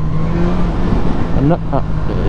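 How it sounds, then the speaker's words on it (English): BMW S1000R motorcycle engine running loud and close, its steady roar punctuated by a quick rising rev, with a voice speaking over it. "Watch how fast this thing revs."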